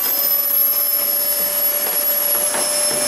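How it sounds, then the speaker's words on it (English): Vacuum cleaner hoovering dust out of a heat pump tumble dryer, a loud, steady high-pitched motor whine with airy rushing suction, continuous and close with no talking. "With all tumble dryers, it's worth hoovering them out"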